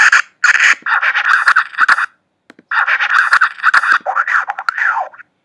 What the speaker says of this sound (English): all these little vinyl scratches, which are just preset sounds in GarageBand